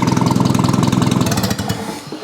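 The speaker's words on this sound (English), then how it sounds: "I'm now next to the exhaust and I have no muffler on, so this sounds real good" A loud, rough old rusty engine with no muffler chugs steadily right up close to the exhaust, its unmuffled exhaust popping in a fast, even rhythm before easing slightly.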